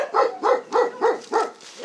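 Dogs at an animal shelter in Gonnosfanadiga bark loudly and close in a quick, regular series of about seven yaps, with no talk.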